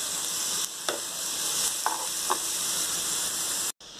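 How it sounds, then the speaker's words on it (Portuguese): Onion sizzles steadily as it fries in a pan, with a few brief stirring clinks and scrapes breaking through the continuous frying hiss. "então aqui eu coloquei a cebola, tá? Vou deixar dar uma fritadinha."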